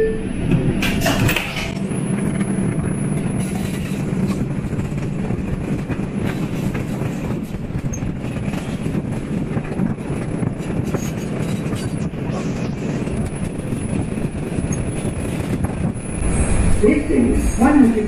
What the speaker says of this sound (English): This is a Manhattan bound 2 local train.